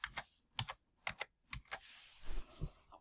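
Someone types text into a document table on a computer keyboard: a short run of crisp, separate key clicks at an uneven pace, close and fairly quiet, with no voice.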